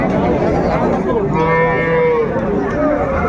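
Sahiwal cows moo at a busy Raniganj cattle market, one long drawn-out low call rising clearly above a steady murmur of crowd chatter and market noise.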